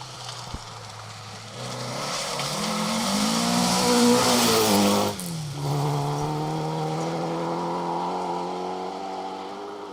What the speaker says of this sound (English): Vauxhall Chevette sideways in a forest here in the Scottish borders